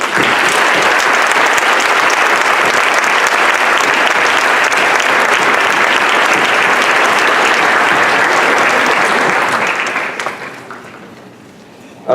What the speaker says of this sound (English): I ask you for a big round of applause,